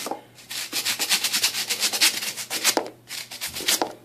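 A brush scrubs the rubber pods of a shoe outsole in quick, rhythmic back-and-forth strokes, a close, gritty rasping that pauses briefly before resuming.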